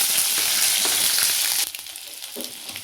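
Loud, hissy sizzling of ginger garlic paste frying in hot oil, then the sizzle suddenly drops to softer crackling and spatters.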